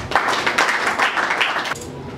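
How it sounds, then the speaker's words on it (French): Applause from a ceremony audience, a dense steady wash of many hands clapping for about two seconds before tapering off, with no voices over it. "sur vos applaudissements"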